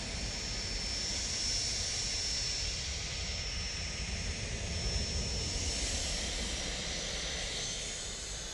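A business jet at Manchester Airport produces a steady, distant engine roar and whine that holds evenly throughout with no pauses.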